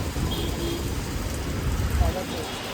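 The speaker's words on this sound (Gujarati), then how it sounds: "હવે વરસાદ ચાલુ થઈ ગયો" Rain falling steadily during a motorbike ride near Bardoli, a dense broadband patter with low rumble throughout, close and fairly loud, no voices over it.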